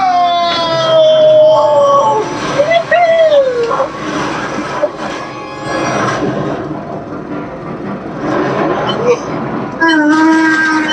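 A loud, continuous train rumble from the video game Millennium Falcon: Smugglers Run, with drawn-out horn-like tones rising and falling, sounding synthetic and close.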